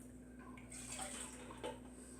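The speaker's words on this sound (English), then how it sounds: "pour some of the water in here and swish it around on both cans" Water is poured into two emptied bean cans and swished around to rinse out the flavour, a faint splashing and sloshing with a brief louder slosh, heard alone at low level.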